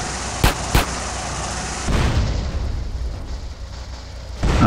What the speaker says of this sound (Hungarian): És ez föl fog robbanni minden.